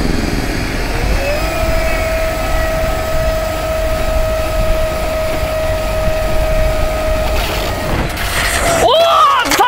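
A high-speed remote-control car with a 6S battery accelerates, its motor rising into a long, steady whine that holds loud and close before a sharp burst of noise at the end.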